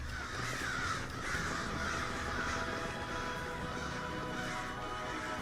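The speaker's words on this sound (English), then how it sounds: "as soon as the murder of crows embarked on their morning migration" A murder of crows caws in a morning scene, many harsh, repeated calls overlapping in an irregular rhythm against a constant noisy background, moderately distant.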